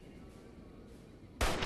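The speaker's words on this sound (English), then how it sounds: "I do have a sniper rifle now with a bunch of ammo." A sniper rifle fires a headshot in Fallout New Vegas: one sudden loud, broadband blast breaks in near the end after a steady low background hum.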